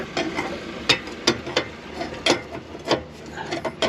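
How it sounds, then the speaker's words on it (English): Spanner working a nut on a small fishing boat, a series of sharp metallic clicks and knocks at an uneven rhythm, close and fairly loud, with no talk. "This one, it needs a bit more with the spanner, probably the whole way."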